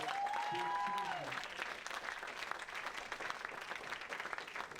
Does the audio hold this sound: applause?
yes